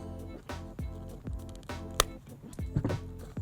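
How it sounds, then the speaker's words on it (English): Scissors cut through the stock rubber shift boot of a Mazda Miata inside the car's center console, giving a series of close, crunchy snips and squeaks in an uneven rhythm, with one sharp clack partway through. "the stock shift boot, we're gonna cut this off with scissors"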